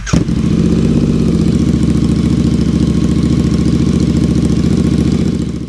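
Royal Enfield Interceptor 650 twin idling with its exhaust baffles removed, a loud, deep, steady burble with a lumpy pulsing rhythm, close up and alone for the whole stretch.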